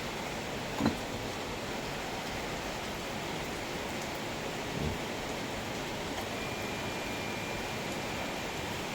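Steady early-morning rain falling outdoors by a fish pond, a dense even hiss with no voices and a couple of faint thumps.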